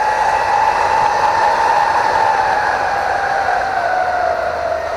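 A custom laptop cooling pad with its fans turned up to high speed gives a loud, continuous whirring drone with a steady tonal hum and broad airy hiss, unbroken throughout.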